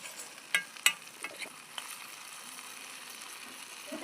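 Soybean curry is stirred in hot oil in a home kitchen, a steady faint sizzle with a few sharp clinks of a spoon against the pan early on.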